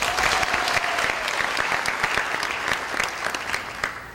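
A television studio audience applauds, a dense burst of many hands clapping that starts loud and slowly thins and fades toward the end.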